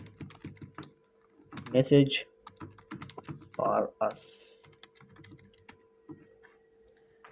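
Someone types on a computer keyboard to fill in a WordPress contact form. Fast, crisp keystrokes click in irregular bursts while someone talks at intervals.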